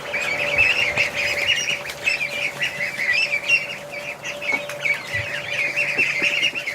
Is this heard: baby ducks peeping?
yes